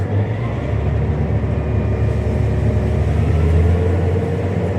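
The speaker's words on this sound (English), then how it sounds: "PTO on, throttle up." A tractor engine runs loud and steady with the PTO engaged while unloading wheat: a close, continuous low rumble and drone with no pauses.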